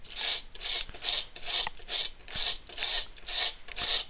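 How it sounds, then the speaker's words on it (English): Old glue is scraped by hand off the body of a Magnum acoustic guitar in steady back-and-forth rasping strokes, about eight close, even scrapes with a gritty, papery texture and no talking. "Just want to clean this, clean up this old glue on this area"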